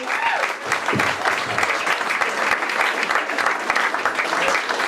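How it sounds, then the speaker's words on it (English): Dense, sustained applause from a comedy festival audience fills the whole stretch, steady and loud with scattered voices in the crowd. "Keep it going for Sean."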